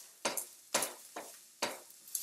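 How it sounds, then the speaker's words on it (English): Broccoli stir-fried in a pan gives four quick scraping, sizzling sweeps, each a sharp burst that fades fast, spaced roughly half a second apart and fairly close. "I'm going to stir frying the broccoli a little bit"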